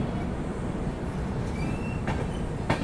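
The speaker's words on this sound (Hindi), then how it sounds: "यहाँ पर इसको ओवरटेक करके अपनी दुरंतो आगे बढ़ रही है।" A Duronto Express passenger train rolls past while slowly overtaking another train in India, a steady loud rumble of wheels and carriages with faint squeals and clicks over the top.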